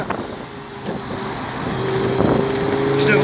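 Lamborghini Gallardo Spyder engine climbing a hill-climb course in the Monts d'Arrée, a steady rising drone building louder over several seconds, heard from inside the open car with wind and road noise.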